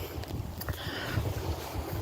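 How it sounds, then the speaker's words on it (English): Blustery wind buffets a clip-on microphone outdoors on a breezy day at Evergreen Cemetery. The low rumbling gusts and thumps come close and continuous across the whole stretch, with no voices. "Hopefully it works better because it is a little windy."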